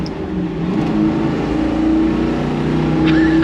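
Chevrolet Camaro Z/28 V8 pulling hard on throttle in second gear, its loud engine note climbing steadily in pitch over a few seconds, heard close from inside the car.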